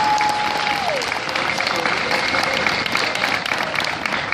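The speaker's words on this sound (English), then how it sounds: "Let's give a round of applause." Steady applause from a convention panel audience fills the whole stretch, dense and even, with a brief tone fading out at the start.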